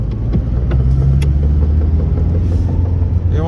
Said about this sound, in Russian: Сейчас я переключусь на вторую передачу, и будут шумы.